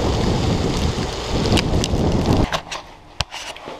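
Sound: rain falling outdoors

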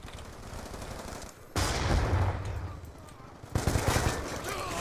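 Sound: gunfire in the video game Call of Duty Black Ops 2

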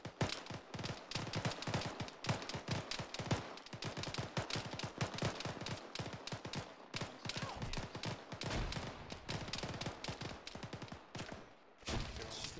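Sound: grenade launcher fire in the video game Arma 3

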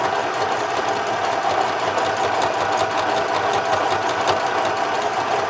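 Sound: small Janome sewing machine stitching fabric

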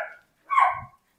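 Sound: dogs barking

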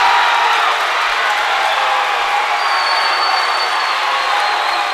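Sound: crowd cheering and applauding at a basketball game

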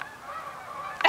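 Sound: geese honking

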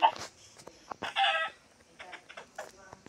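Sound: chicken clucking in Minecraft video game

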